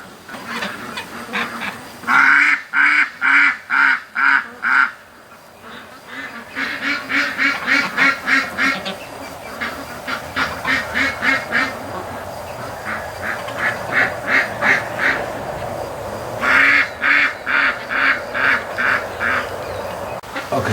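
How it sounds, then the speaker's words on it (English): A group of ducks on a creek quack loudly in rapid repeated runs, bursts of close, rhythmic calls separated by short pauses, with more quacking continuing in the background. "something just caused that group of ducks to get out of the water."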